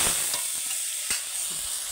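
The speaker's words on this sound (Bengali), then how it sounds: "পেঁয়াজ আর কাঁচা লঙ্কাটা ভাজা হয়ে গেছে, দিয়ে দেবো আদা বাটা আর আদা বাটার জলটা দিয়ে দেবো" Onion and green chili fry in hot oil as ginger paste and its water are added, giving a steady loud sizzle and hiss with faint stirring.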